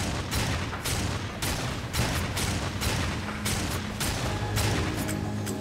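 Repeated gunshots from a gun in the video game Darksiders 2 fire in a steady rapid rhythm, about a dozen punchy bursts over a low rumbling game backdrop.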